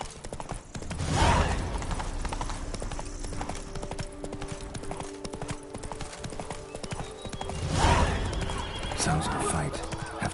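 Horse in The Witcher video game, galloping with steady clip-clop hoofbeats and neighing twice over a dense music and ambience bed.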